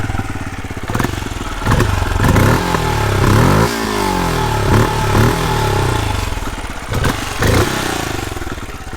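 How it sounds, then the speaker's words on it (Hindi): Exhaust note of a Benelli Imperiale 400 single-cylinder motorcycle, loud and close, idling with a lumpy thump and blipped several times into short revs that rise and fall, no voices. "एग्जॉस्ट नोट में आपको सुना देता हूँ अभी।"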